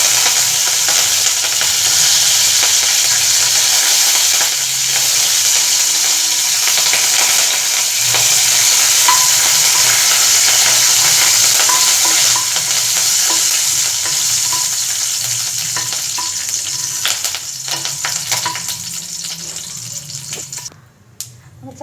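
Curry leaves sizzle and are stirred in a pan while making tomato chutney, a steady loud frying hiss with scraping stirs that fade toward the end.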